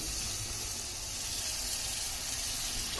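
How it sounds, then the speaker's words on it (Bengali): Water rushes into a hot pan of fried spice paste for a pangas fish curry, a loud, steady hissing gush that fills the whole moment, close up and without any voices. "তো এখন দিয়ে দিচ্ছি একটু পানি"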